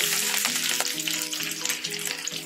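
Chopped onion hits hot oil with cumin seeds and curry leaves, a loud close crackling sizzle that stays bright and busy throughout.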